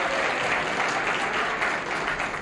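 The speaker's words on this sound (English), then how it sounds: "They applauded for that, too." Steady studio audience applause on a 1975 Tattletales game show, dense and continuous clapping from a crowd throughout.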